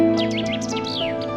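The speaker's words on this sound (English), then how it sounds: "Birds are an important element of the forest ecosystem, playing an important role in its functioning. Their singing fills the surroundings" Several birds sing in a Central European forest, with bright chirps, tweets and sweeping whistled phrases in close succession over a steady background hum, continuous and fairly near throughout.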